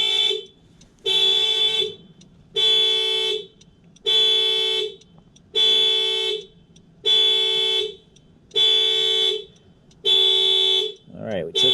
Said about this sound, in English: Please turn that horn off.